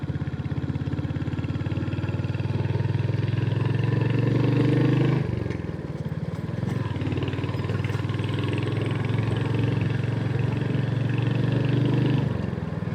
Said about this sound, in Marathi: घाट रस्त्यात गाडी चालवायची मजाच वेगळी आहे.